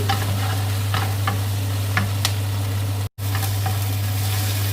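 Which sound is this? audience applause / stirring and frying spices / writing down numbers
stirring and frying spices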